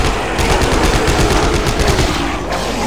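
Rapid, loud automatic gunfire rattles continuously in the Dead Space video game during co-op play, a dense burst of shots with no pauses.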